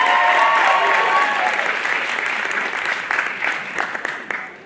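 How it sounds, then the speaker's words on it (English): Loud audience applause fills a campus Mock Rock show, steady and dense at first, then gradually thinning with scattered claps and a few cheers as it fades. "So, one more round of applause for Five Directions."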